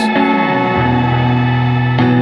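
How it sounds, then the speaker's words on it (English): An effects pedal's reverb built from smearable taps spreads a sustained, metallic wash of tones with a resonant drone underneath, swelling again near the end, with no one talking. "Reverb on this pedal is interesting, and it's made up of these smearable taps"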